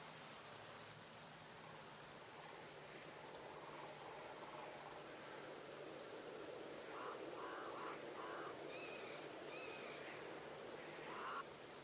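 Steady rain hisses softly and continuously in the video game Gunfire Reborn, with faint scattered game effects over it.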